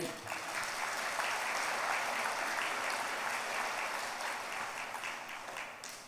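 A church congregation applauding during a priest's talk: dense, sustained clapping from many hands that holds steady for several seconds, then tapers slightly near the end.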